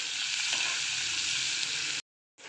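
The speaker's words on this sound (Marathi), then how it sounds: "कांदा छान मंद आचेवर लालसर होईपर्यंत आपल्याला परतून घ्यायचं आहे." Chopped onion sizzles steadily in hot oil over a low flame for an upma dish, a dense even frying hiss with faint stirring, then it cuts off abruptly and resumes briefly.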